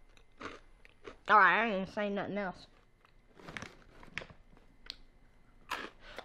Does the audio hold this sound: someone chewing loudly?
yes